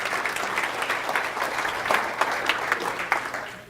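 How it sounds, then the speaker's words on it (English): Training participants give a round of applause, a steady, moderately loud patter of many hands clapping together with no voices over it. "I would give yourself a round of applause for you because you guys did this."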